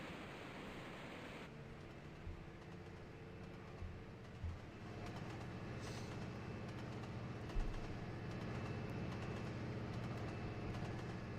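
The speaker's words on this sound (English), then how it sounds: "We have a high-speed freight train today." A high-speed freight train in the Trainz Simulator 2 game on the Hawes Junction route gives a steady, broad rumble with a continuous rail roar. Faint clicks and thumps surface now and then, and no one speaks.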